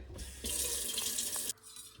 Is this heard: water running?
yes